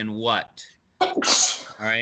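A single sharp sneeze bursts out in a sixth-grade classroom lesson on pronouns, falling between stretches of a teacher's talk.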